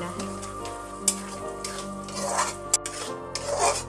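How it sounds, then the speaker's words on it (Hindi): An apple and grape mixture being roasted in a pan over a very low flame, with a soft, continuous scraping and rasping as it is stirred and turned, plus a few sharper knocks, close up. "गैस की फ्लेम को बिल्कुल लो कर देंगे। लो में ही हमें भूनना है।"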